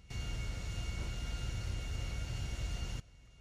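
Steady, loud helicopter engine roar in Grand Theft Auto V with a constant whine that drones for about three seconds, then cuts off abruptly into quieter background.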